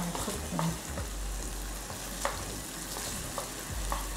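Shrimp stir-fry over high heat for lo mein, with a constant loud sizzle and light taps and scrapes as chopsticks toss the shrimp in the pan.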